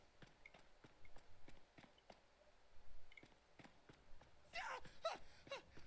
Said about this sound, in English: I can hear footsteps. That's us, man.